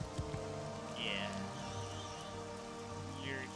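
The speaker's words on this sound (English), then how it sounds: "Another wonderful rainy day." Steady rain falls in the video game Morrowind, a constant wash of noise with a low hum and faint creature-like chirps on top, and no speech.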